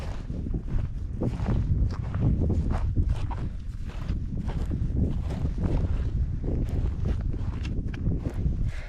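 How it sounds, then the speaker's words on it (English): Wind gusts outdoors on open agate flats in Wyoming, making a steady, loud, low buffeting rumble against the microphone that does not let up. "A little breezy, which is nice, so you don't get really hot."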